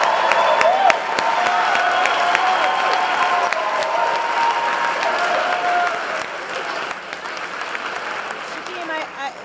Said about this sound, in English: there is a room full of more than 800 people cheering you on